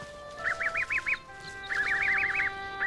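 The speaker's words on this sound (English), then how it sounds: "Here we find the only nesting colonies in the world of the red-breasted goose." Red-breasted geese honk at a nesting colony on the Taimyr Peninsula, two rapid rhythmic runs of nasal, yelping calls, fairly close, over a steady low wind-like background.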